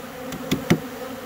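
Honey bees buzzing around a bee brush, a low steady hum with two or three sharp close thuds or taps standing out briefly, no talk.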